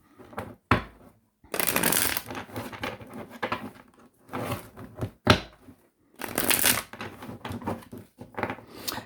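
Tarot cards being shuffled up close in repeated bursts of riffling and patting, with short pauses between handfuls and no voices.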